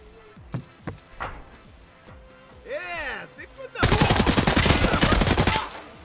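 Gunfire in Escape from Tarkov: a few scattered single shots, then a loud sustained burst of rapid automatic fire close by, along with other in-game sounds.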